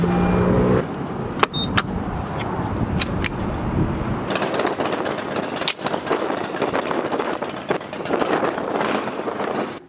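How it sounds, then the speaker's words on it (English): A loud Harley motorcycle engine runs at a car shop, giving a heavy, rough rumble. It starts as a nearby idle and then swells into a louder, denser roar that lasts to the end, with a few sharp clanks in the first seconds. "get that loud ass Harley out of here"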